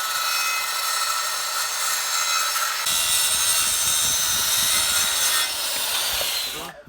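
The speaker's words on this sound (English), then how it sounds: "Alright, so we've got our 2-inch PVC for the subframe. We're going to cut these into 4-foot 10-inch pieces." A saw cuts through 2-inch PVC pipe with steady, rasping back-and-forth strokes close by, running continuously for several seconds before stopping.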